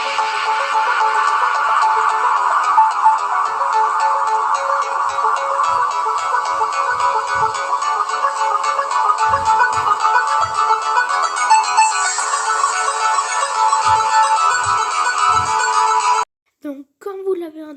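A phone ringtone from the video game Poppy Playtime Chapter 3 rings loudly and steadily for about sixteen seconds, a bright repeating electronic tone. It cuts off abruptly, followed by a few brief sounds.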